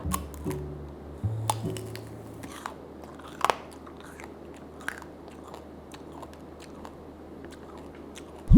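Sugar-coated apple tanghulu is bitten and chewed close to the mic, with sharp crunches of the hard candy shell followed by softer wet chewing, occasional louder cracks standing out.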